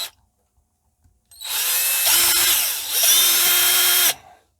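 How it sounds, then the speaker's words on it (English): A power drill bores a hole through a hardened glue egg set stone-hard like plastic, two close, loud whining bursts of about a second each, separated by a brief dip, with silence before and after. "you can drill maybe a hole here for your keyring"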